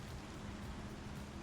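Steady, soft rain falls in the Star Citizen video game on the planet Hurston, a constant faint hiss with no talk over it.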